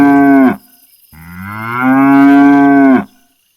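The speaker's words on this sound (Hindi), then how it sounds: "हीरा और मोती, जो हमेशा इशारे पर चलते थे, अचानक रुक गए और जोर जोर से रंभाने लगे।" Bullocks, a pair of cart oxen, bellow loudly and close by: one short moo, then a second long, sustained bellowing call lasting a couple of seconds, with nothing else heard.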